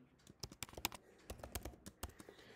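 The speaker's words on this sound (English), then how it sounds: "let me type my password here" Rapid keystrokes on a computer keyboard as a password is entered, irregular bursts of sharp clicks at close range, with no talking.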